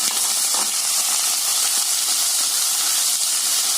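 Ivy gourd slices sauté in oil in a pressure pan, giving a steady, close, unbroken hiss of sizzling with no voices.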